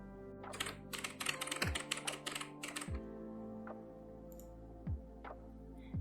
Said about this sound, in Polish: klikamy Stwórz projekt i wpisujemy nazwę